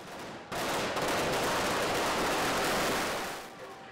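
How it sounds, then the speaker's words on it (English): Fireworks going off during a Navratri festival night, a dense continuous crackle of rapid bangs that swells in loudly after a brief lull, like a fusillade, then tails off near the end. "It must be the deafening sound of the fireworks that affected her."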